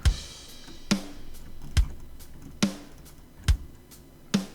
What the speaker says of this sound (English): Definitely one of the driest drum kits that we had on this album.